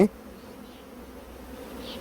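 Honeybees at a beekeeper's hive make a continuous, even buzz from a dense swarm. The hum stays steady and close throughout, with no voices.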